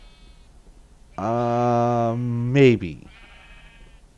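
A Minecraft sheep lets out one loud, clear bleat of about a second and a half, wavering and rising sharply at the end, over a quiet background where a voice speaks faintly.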